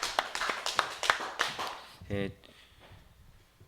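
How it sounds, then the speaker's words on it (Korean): A congregation's burst of clapping at a Full Gospel church Sunday service, a quick run of claps that fades into a voice speaking. "하나님께 영광의 박수 드려드리겠습니다"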